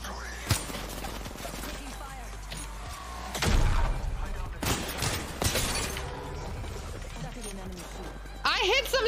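Gunfire in the Apex Legends video game, sharp shot transients scattered through the clip under loud excited talk and game noise.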